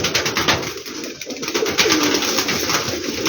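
Black Teddy pigeon cooing in a loft, soft repeated throaty coos with bird calls close by, steady and alone without speech.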